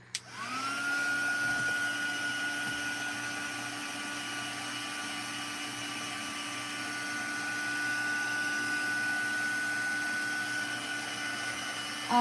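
A hair dryer blows steadily for about twelve seconds, drying freshly applied paint up close, with a constant whirring hum and airy hiss that stays loud throughout.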